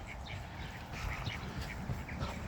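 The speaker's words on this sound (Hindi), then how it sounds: "तो ये दो बत्तखें हैं जो काफ़ी यानी बड़ी हैं" Two large ducks by a pond quack faintly in scattered, repeated calls over a soft outdoor background of murmur and wind.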